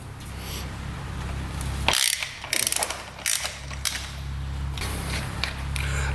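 A ratchet wrench clicks in short bursts as a big nut is worked loose on a vehicle, close and moderately loud over a low steady background hum.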